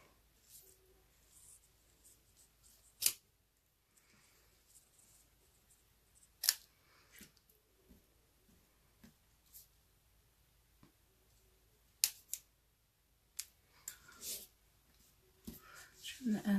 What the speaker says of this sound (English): And then I'm just going to trim the ends.